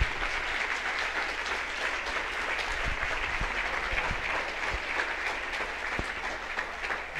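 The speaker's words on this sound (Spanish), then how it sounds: "démosle un aplauso pues a Dios," An audience applauds steadily throughout a lecture at a 2018 pro-life congress, a soft, even patter of many hands heard from a distance without talk.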